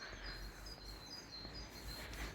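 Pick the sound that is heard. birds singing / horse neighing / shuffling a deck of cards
birds singing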